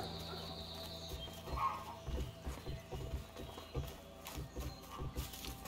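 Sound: horse in the video game A Way Out

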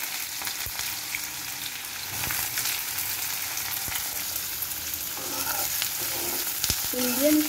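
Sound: onions frying in pan for chicken masala

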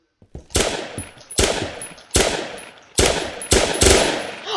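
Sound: machine gun fire in a video game

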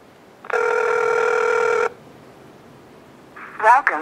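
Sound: Motorola DROID 3 placing a phone call, ringing

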